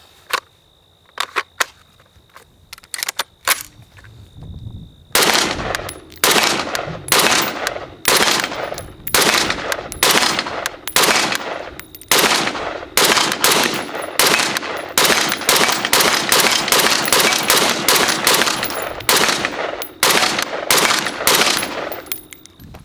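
A Steyr AUG A1 preban 5.56mm rifle fires outdoors. After a few scattered clicks and shots, a long run of loud, sharp single shots follows at a quick, fairly even pace, some in rapid pairs.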